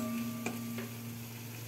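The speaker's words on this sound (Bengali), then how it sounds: "তারপরে আদা, পেঁয়াজ, রসুন, লঙ্কা পেস্ট করে নিয়েছি, সেটা দিয়ে দিয়েছি, দিয়ে একটু নাড়াচাড়া করছি।" Ginger, onion, garlic and chilli paste frying in oil over a cumin tempering for a fish-head moong dal, with a steady low sizzle and a couple of brief stirring clinks near the start, no talking.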